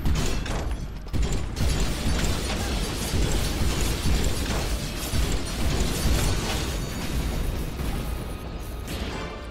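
In the video game Dust: An Elysian Tail, a cannon is destroyed in a long, dense crunch of mechanical clanks and bursts, like heavy machinery breaking apart, continuous and loud for several seconds.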